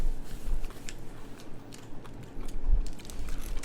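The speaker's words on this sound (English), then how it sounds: "Can't get over how super crunchy and good these chips are." Air fryer nacho chips are bitten and chewed near the microphone in a few loud, sharp crunches with softer chewing between them, and no one speaks.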